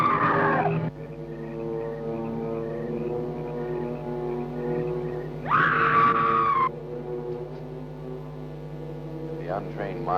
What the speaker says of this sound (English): To the untrained mind, it is the scream of the white ghost.